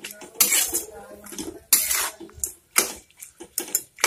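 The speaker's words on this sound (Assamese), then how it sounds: "এতিয়া মই অলপ লৰাই দিছোঁ" Metal spoon scraping and clanking against a cooking pot while fish head curry is stirred, several loud bursts of clatter spread unevenly with short pauses between them, no talking.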